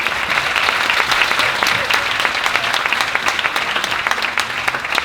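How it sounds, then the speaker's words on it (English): Loud, sustained audience applause greets a panel of a philosopher, a psychologist and an economist, with thick, continuous clapping throughout and faint voices underneath. "Give them a grand applause."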